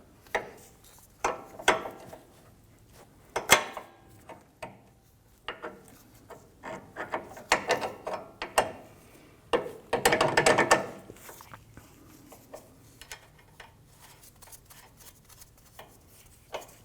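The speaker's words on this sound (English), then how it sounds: "Let's go ahead and remove the anchoring nuts here and get this in position." A ratchet loosens the 15mm anchoring nuts on a front sway bar link of a 2004-2008 Acura TL, giving scattered clicking bursts with a dense stretch of rapid ratcheting midway, close by and with no talk.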